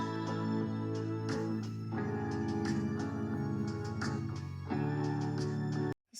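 MIDI strings part from a cover of a song, a dense sustained arrangement with shifting chords, playing alone for about six seconds before cutting off abruptly at the end.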